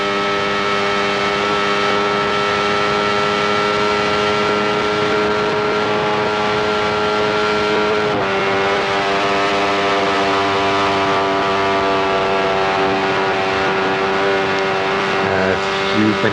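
Benelli 350cc racing motorcycle at full throttle, heard onboard during the Manx Grand Prix on the Isle of Man, its engine screaming loud and steady for the whole stretch with a brief dip at a gear change partway through.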